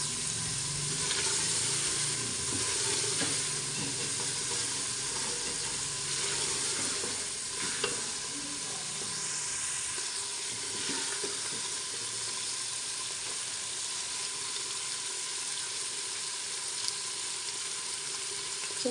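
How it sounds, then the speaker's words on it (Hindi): Black chickpeas roast in oil in a cooker pot, a loud, unbroken sizzle with soft stirring scrapes, nearly alone for the whole stretch. "अभी थोड़ी देर इसको और भूनते हैं जब तक ऑयल ऊपर आ जाए।"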